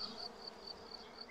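Honey bees buzz around a hive in a faint, steady hum with a few louder passes of individual bees flying close by.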